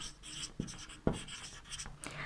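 Writing on a board during an English grammar lesson, a run of soft scratchy strokes with a couple of sharper taps as the marker or chalk touches down, close and quiet with no talking.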